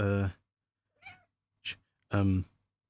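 A cat meowing up close, two loud drawn-out meows framing a couple of shorter chirps, with quiet gaps between calls.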